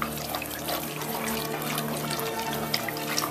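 Water runs steadily from a tap into a bowl and is poured into a cooking pot for Vietnamese-Chinese cabbage rolls, a continuous close trickling and splashing with no talk.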